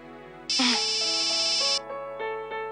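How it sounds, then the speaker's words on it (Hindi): A mobile phone ringtone sounds for an incoming call in a quiet home: a bright electronic tone held for about a second, then a stepped melodic sequence of shorter notes, clear and close, with no talking over it. "किसका फोन आने लगा?"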